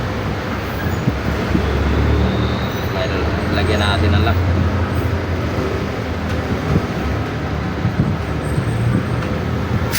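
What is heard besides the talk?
road traffic noise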